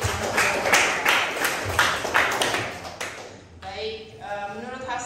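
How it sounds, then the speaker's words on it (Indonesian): A small group in a classroom claps briefly for a student, a few seconds of close, scattered handclaps that fade out, followed by a voice speaking. "tepuk tangan buat Hastrid"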